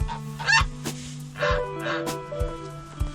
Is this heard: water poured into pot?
no